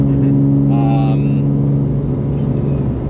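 A self-built Porsche 997 GT3 RS on the Nürburgring, its engine droning steadily and loudly from inside the car, with a brief rising rev partway through and a voice speaking over it.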